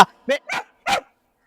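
A dog barks in a Pakistani Punjabi village drama scene: four short, sharp, loud barks close by, separated by brief silent gaps.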